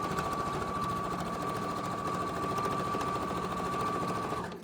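A sewing machine stitches a quarter-inch seam on quilt fabric, running steadily and loudly at an even fast pace throughout before stopping at the end.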